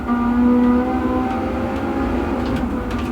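Race car engine in Gran Turismo 7 hums steadily with a sustained tonal drone that holds, then shifts slightly, loud and continuous throughout with no talking.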